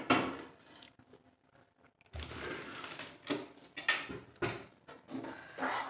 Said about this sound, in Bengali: নাড়তে কিন্তু হবে কন্টিনিউ